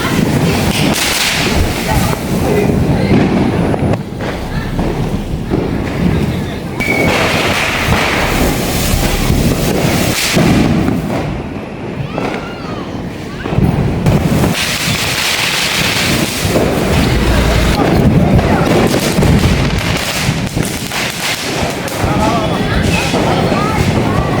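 Firecrackers go off in sharp, crackling bursts, irregular and loud, with voices faintly in the background.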